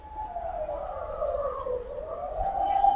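A Giribaz pigeon at a pigeon farm gives a single drawn-out, gliding coo that dips and rises in pitch, heard nearby over a low background rumble.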